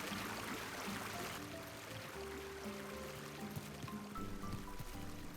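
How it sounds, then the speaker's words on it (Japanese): Gentle flowing and trickling water in a hot spring room in Animal Crossing, a soft continuous stream under quiet background music tones, faint and calm throughout. "水の音がいいですよね。"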